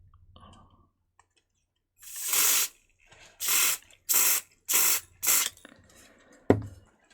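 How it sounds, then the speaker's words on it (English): WD-40 contact cleaner is sprayed from an aerosol can onto a Game Boy Pocket's button contacts in five sharp hissing bursts, then a clack as the can is set down. "I've got some WD-40 contact cleaner here, which I'll spray on."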